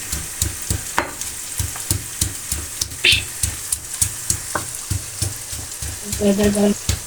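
Tomatoes and onions sizzling in a pan, a steady crackling fry broken by a rhythmic series of stirring scrapes and taps, close and fairly loud, while a person speaks now and then.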